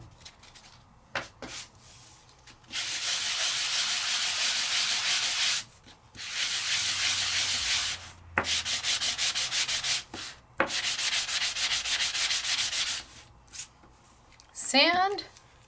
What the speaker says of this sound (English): Sand.